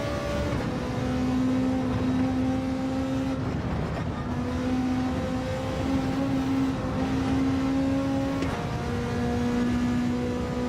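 A Gr.3 race car engine in a racing video game drones and revs continuously at high pitch, the tone rising and falling with gear shifts, loud and close with no talking.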